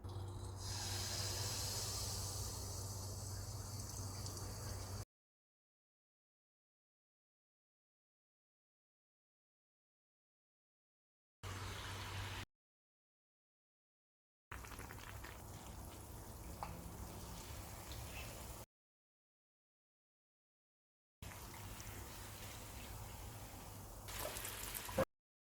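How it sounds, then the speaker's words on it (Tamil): Paniyaram, a sweet, sizzles and hisses steadily in hot oil in several separate stretches, broken by moments of complete silence. "பணியாரம் பொரிக்க தேவையான அளவு எண்ணெய் காய வச்சுக்கணும்."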